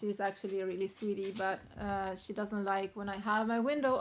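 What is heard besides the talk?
No everyday noises stand out.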